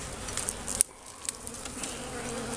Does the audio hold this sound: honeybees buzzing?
yes